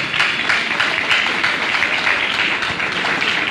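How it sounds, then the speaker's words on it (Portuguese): A church congregation applauds the Lord during a worship service, with dense, steady clapping from many hands that holds at a loud level throughout with no talk over it. "Pode aplaudir o Senhor"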